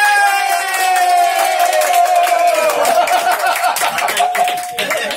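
Bus tour passengers cheer and whoop near the end of a ride, a dense crowd of voices with sustained high shouts and a crackle of clapping running loud and steady throughout.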